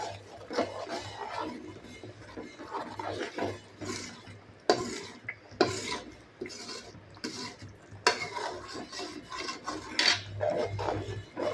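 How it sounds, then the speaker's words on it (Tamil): Thokku gravy of cleaned dried anchovy being stirred in a cooking pan, a continuous scraping and rubbing with uneven strokes, moderately loud and close, with no talking. "கலந்து விடலாம்."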